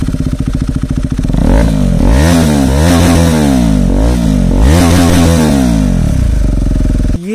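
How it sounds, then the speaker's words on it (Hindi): KTM Duke 390 motorcycle fitted with an Akrapovic full-system exhaust, revving hard close up, the loud engine rising and falling through several throttle blips over a steady idle. "ये था हैक्रापोविक एग्जॉस्ट, ये तो भाई एससी से भी ज्यादा लाउड था ये वाला"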